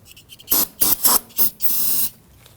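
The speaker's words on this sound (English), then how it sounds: "We're going to continue by using some spray solvent" Solvent cleaner sprays from an aerosol can onto the top of a brake master cylinder reservoir on a 2009-2017 Volvo XC60: four short close hissing bursts, then one longer blast.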